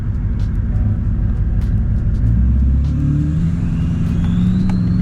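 The diesel engine of a Duramax truck fitted with a new large turbo rumbles loudly and steadily up close, then revs up, with a faint rising turbo whistle over the low drone.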